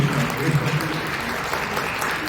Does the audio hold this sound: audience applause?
yes